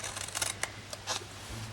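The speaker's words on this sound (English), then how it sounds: "now I need to grab our scissors and we'll do the lid first." Scissors cut the lid of a handmade card gift box, producing a few short, crisp snips and rustles close by in a quiet room.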